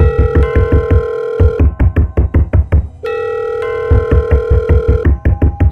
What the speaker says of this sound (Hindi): पॉकेट में रखा फ़ोन अचानक बजने लगा